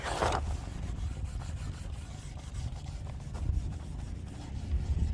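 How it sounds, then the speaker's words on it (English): A wooden M1 Garand rifle stock is scrubbed by hand, giving a steady close rubbing and rasping sound that runs throughout with small surges, after a brief louder scrape at the start. "You just want to scrub lightly and firmly across this whole stock."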